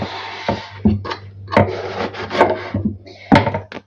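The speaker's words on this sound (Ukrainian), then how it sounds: "Я прямо отак в руці розріжу і тоді на досочці." A knife slices eggplant into pieces on a wooden cutting board, making several sharp, close knocks and short scraping cuts at irregular intervals, with no voices.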